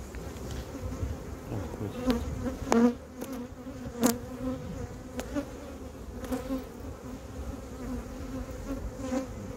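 Steady droning buzz of many honey bees swarming close by around a hive during beekeeping work on frames, continuous throughout with a few louder passes and faint clicks.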